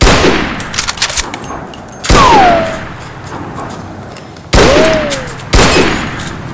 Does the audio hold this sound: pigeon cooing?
no